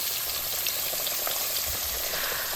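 Ribeye steaks drop into hot canola oil for deep frying, setting off a loud, dense, continuous crackling sizzle that holds steady close by, with no voices.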